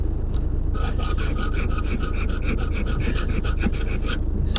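A hand file rasps back and forth on a key blank being cut for a British Standard sash lock, in a steady run of quick, close strokes over a constant low background hum.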